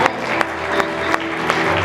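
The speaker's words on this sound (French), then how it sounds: "On peut encore l'applaudir." An audience applauds at a tribute ceremony for Cameroonian cinema at the 23rd African Film Festival in Khouribga, honouring a violinist. Steady massed clapping fills the hall, with a few sharper claps standing out over a faint musical hum.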